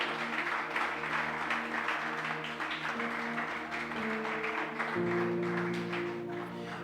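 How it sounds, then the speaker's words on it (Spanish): A church congregation claps during worship, a diffuse layer of applause running over sustained music tones throughout, moderately loud and steady. "dele un aplauso al Señor"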